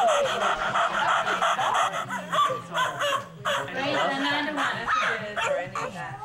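A person imitates a dog, giving a run of yipping, panting bark sounds at a family birthday gathering, close to the microphone with other voices and chatter mixed in.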